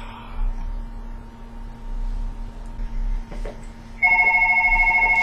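A telephone in a video game rings loudly and insistently, a steady pulsing electronic ring bursting in abruptly near the end over a quiet low hum.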